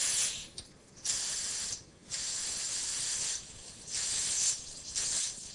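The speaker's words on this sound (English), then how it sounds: "I'll use my air compressor. I'm going to bring it up to 35, probably 40 psi" Air compressor inflating a tubeless bicycle tire: loud bursts of high hissing air, several short blasts separated by brief pauses, close and without speech.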